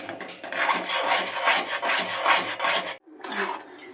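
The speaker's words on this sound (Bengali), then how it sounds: "তাহলে এখন আমি নাড়তে থাকি অন্তত দশ কুড়ি মিনিট তো নাড়তেই হবে" Palm fruit pulp for payesh is stirred in a pot with steady, rhythmic scraping strokes that rasp continuously, pause briefly, then resume, close and moderately loud.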